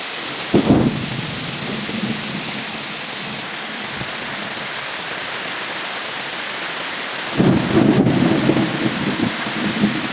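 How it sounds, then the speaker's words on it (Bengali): Monsoon rain pours steadily onto a tin roof in a dense, even hiss, with deep rumbles of thunder swelling near the start and again toward the end; no voices. "এই বর্ষাকালে আমার কাছে কিন্তু টিনের চালে বৃষ্টির শব্দটা সবচাইতে বেশি ইন্টারেস্টিং লাগে।"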